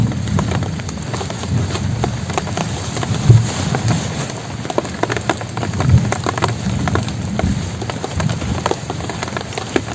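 Rain falls steadily on surfaces outdoors, a dense patter of drops with occasional heavier splats, fairly close and continuous with no talking.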